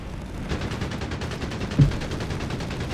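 Rapid gunfire in Company of Heroes 3, an Afrika Korps versus US Forces match with soldiers engaging a Sherman: steady repeated shots rattle on for the whole stretch, with one heavier thump partway through and no voices.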